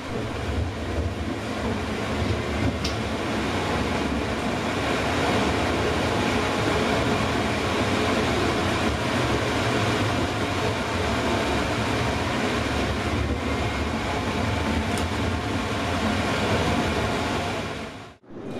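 A tram rolls steadily along its tracks on a street-running section in Dessau, Germany, a continuous loud rumbling roar with rattling wheels and wind buffeting the microphone, cutting off abruptly at the end.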